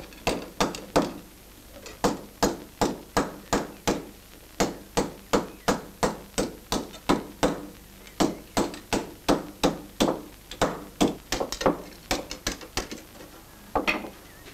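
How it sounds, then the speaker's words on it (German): A cooper hammers an iron hoop band against the narrow edge of an iron plate while shaping a barrel hoop, the sharp metallic blows falling in a steady, brisk rhythm with brief pauses, close and loud. "Die Rundung verstärkt sich, wenn man das Band unter Hammerschlägen an der Schmalseite einer Eisenplatte entlang führt."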